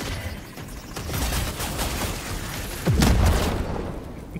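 Dense gunfire and explosions in the video game Helldivers 2, with rapid bursts of shots, a shotgun among them, a steady crackling barrage and a heavy boom near the end, without talk.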